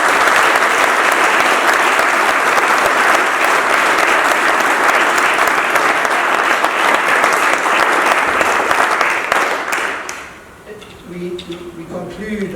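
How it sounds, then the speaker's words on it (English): Loud, sustained applause from a school audience for a graduating class at a Grade 7 prize giving, dense and continuous before dropping off abruptly near the end, where faint voices and other sounds remain. "So a round of applause again for this class."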